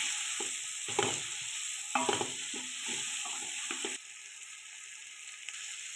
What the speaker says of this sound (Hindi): इन सारी चीज़ों को फिर अच्छे तरीके से मिक्स करके पका लेना है